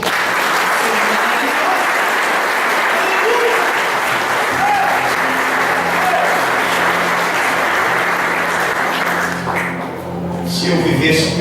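A church congregation breaks into sustained, dense applause that fills the room, with low hum underneath and a brief dip near the end before the clapping swells again.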